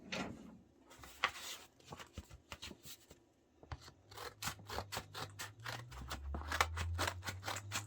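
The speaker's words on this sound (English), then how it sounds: "let's grab our scissors and cut this thing open" Scissors cut open an envelope at close range in a series of sharp snips and papery rustles, irregular at first and then quicker, with a low hum creeping in toward the end.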